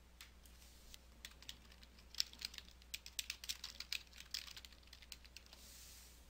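Fingers type on a computer keyboard in quick, uneven bursts of soft clicking, close but quiet, with short pauses between keystroke runs and no voices.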